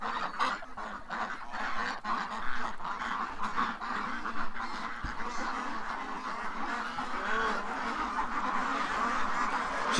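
Ducks in an evening pen give a constant, close chorus of honks and quacks, many birds calling over one another at steady loudness, with a brief soft knock partway through.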